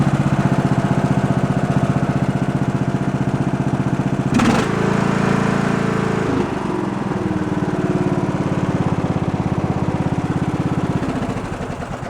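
A tractor engine running steadily after a carburetor swap, close and loud, with a brief sharp noise partway through and a slight change in pitch as it keeps chugging at idle.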